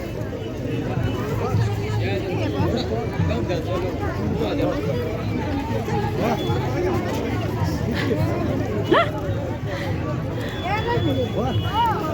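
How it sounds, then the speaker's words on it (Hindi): A dense crowd of people packed onto a road after dark, their overlapping voices forming a steady, close hubbub of chatter that carries on without a break for the whole stretch, with scattered footsteps and movement underneath. "अब रोड में हो गई ये भीड़ ही भीड़।"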